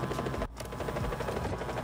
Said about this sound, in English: From a chopper.